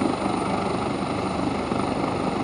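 A helicopter hovers while wounded victims are hoisted aboard during an army rescue display at Tundikhel. Its rotor and engine make a loud, constant roar that fills the whole stretch.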